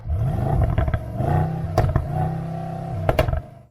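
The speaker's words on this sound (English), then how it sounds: "The AMG GLS 63 comes with 2 distinct exhaust notes." A deep, throaty V8 roar from a 2020 Mercedes-AMG GLS 63 SUV exhaust in Powerful mode, rumbling, swelling and easing with a couple of sharp revs, close and loud, no talking.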